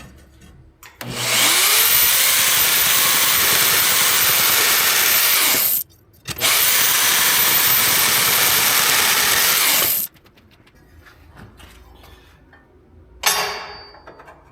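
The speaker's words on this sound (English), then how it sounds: "Back at our bandsaw, and we'll cut it to length." A bandsaw cuts wood to length in two long, loud, steady passes of about five and four seconds, split by a short pause. A faint clatter of handling follows, then a brief sharp knock near the end.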